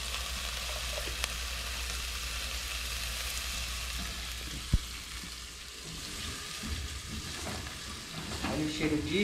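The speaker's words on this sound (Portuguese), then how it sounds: "Vou dar uma refogada aqui nessa cebola e nesse alho. Duas colheres aí de azeite de dendê." Onion and garlic sautéing in palm oil for a fish stew with shrimp sauce, producing a constant close hiss and sizzle with a single sharp knock midway and some stirring clatter toward the end.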